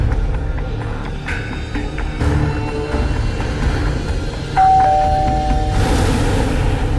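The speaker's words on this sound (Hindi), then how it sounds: "मैं डोरबेल बजाता हूँ" A doorbell at a house door rings as a single sustained electronic tone partway through, over a steady room background with scattered thumps and no talking.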